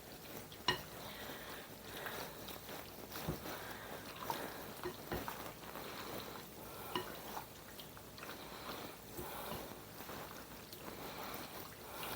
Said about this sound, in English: we are going to stir this all together